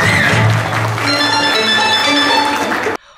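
Audience applause after a school student theatre play: dense, steady clapping from a crowd fills the hall for about three seconds, then cuts off abruptly.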